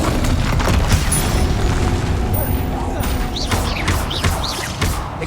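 Casting the Incendio fire spell in Hogwarts Legacy produces a loud, sustained fiery whoosh and rumble with booming bursts, followed by a few whistling, crackling accents near the end.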